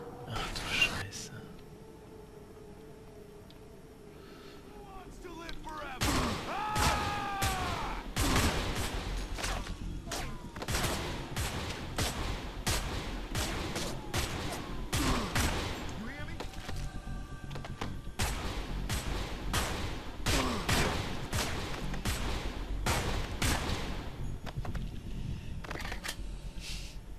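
Rapid bursts of gunfire in the violent stealth game Manhunt 2, dense repeated shots with pauses between volleys, loud and close, with a person talking over parts of it.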